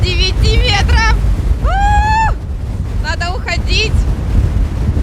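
Hurricane-force wind roaring at Gelendzhik on the Black Sea coast, a loud continuous buffeting rush that batters the microphone while a person speaks over it.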